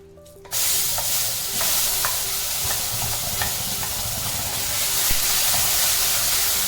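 A ground spice paste for kara pongal hits a hot pan with a sudden loud sizzle, then keeps frying with a steady hiss while a spoon scrapes and stirs it, all up close and without voices.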